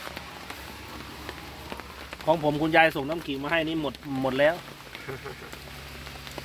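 Heavy rain pours down over a patrol base in the forest, a dense steady hiss filling the background throughout while someone talks in a few bursts in the middle.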